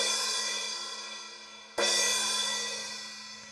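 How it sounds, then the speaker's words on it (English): A Paiste Signature 12-inch splash cymbal in a timbales setup is struck twice, close and alone. Each bright, shimmering crash fades slowly, and the second hit cuts off the first wash. "This cymbal over here is a Paiste 12-inch splash."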